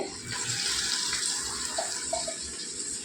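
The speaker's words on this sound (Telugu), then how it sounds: "చిక్కుడుగాయలు కూడా బాగా కడిగి ఉప్పు నీళ్ళు వేసి నానబెట్టుకున్నానండి" Broad bean pods being washed in salted water in a home kitchen for a cauliflower curry, a steady close splashing and running-water rush lasting throughout with small clinks, no voices.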